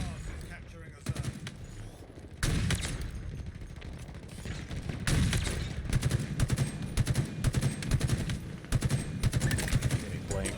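Gunfire in Halo Infinite during a Big Team Battle match, heard as rapid, repeated bursts of shots, some close and loud and others more distant, under a player's talk and game announcer lines.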